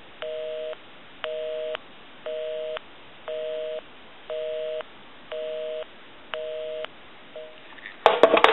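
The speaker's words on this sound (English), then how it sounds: "Give you some dial tone." On a 525B police and fire call box telephone set, a steady dial tone gives way to a regular series of eight evenly spaced touch-tone dialing beeps, ending in a short burst of clicking noise.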